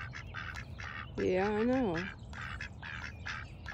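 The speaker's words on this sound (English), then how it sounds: "I heard everything quacking and honking back here." Ducks and geese quacking and honking outdoors around a feeding area, with a rhythmic run of quacks throughout and one loud drawn-out honk in the middle, while a person speaks briefly nearby.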